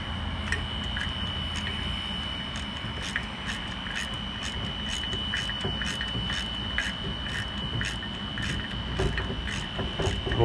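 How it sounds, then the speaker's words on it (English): A small electric power washer runs at a neighbor's house in January, giving a steady mechanical drone with a fast, regular ticking, heard at a moderate distance without a break. "Neighbor's over there power washing his house"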